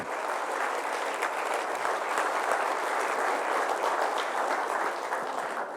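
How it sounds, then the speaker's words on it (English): A talk audience claps together in steady, sustained applause that fills the room at an even loudness throughout, with no one speaking over it. "Let's give a big round of applause to ourselves."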